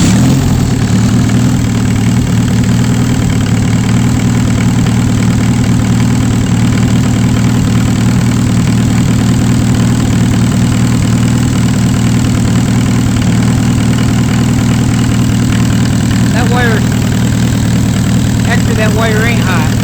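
A Mercedes-Benz 220 diesel engine idles steadily with a loud, low rumble throughout, and brief faint chirps or squeaks come through near the end.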